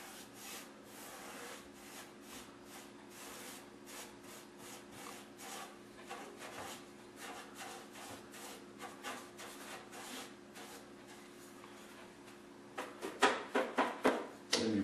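A paintbrush painting along the edge of a wooden wardrobe that was sanded back to bare wood in spots, giving steady, close scratchy bristle strokes in a continuous rhythm that quicken into sharper, louder swipes near the end.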